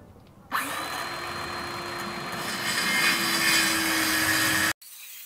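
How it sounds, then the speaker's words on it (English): A Ryobi cordless circular saw rips Baltic birch plywood with a rip guide. After a brief quiet start it bursts into a loud, close, steady cutting roar lasting about four seconds, then stops abruptly. "I'm going to be cutting it into 21-inch lengths and then cross-cutting those to 26 1/4 using my Craig Rip Guide on this Ryobi cordless saw."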